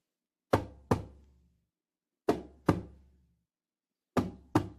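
Hand drumming in a heartbeat pattern: three pairs of close double thumps, each pair followed by a pause, resonant and clear with no other sound.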